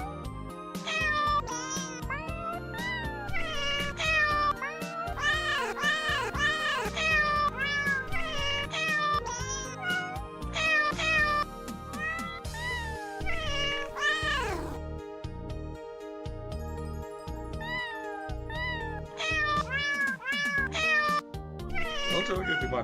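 A cat meows over and over in long, wavering, whining calls, loud and close. The calls come in clusters with short pauses, and soft talk runs underneath.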